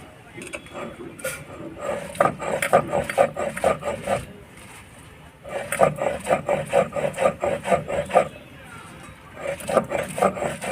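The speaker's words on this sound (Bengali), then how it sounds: "আমরা কাঁচা ঘাটকল পাতাটা বেটে নিচ্ছি" Raw ghatkol leaves are ground on a stone slab, a steady rhythmic scraping and thudding of stone on stone in rapid strokes, stopping briefly midway and then resuming, close and fairly loud.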